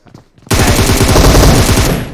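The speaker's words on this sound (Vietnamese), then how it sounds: "Bắn lục này thì bắn lục này" Rifle fire in PUBG Mobile: a loud, continuous rapid burst of automatic shots close by, lasting under two seconds, preceded by a few faint distant pops.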